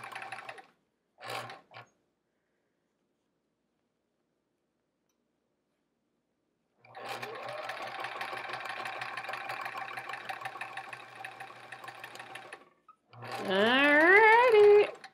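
A sewing machine stitches a quilt sashing block, running steadily for several seconds after a couple of short bursts, then stopping as a voice speaks near the end.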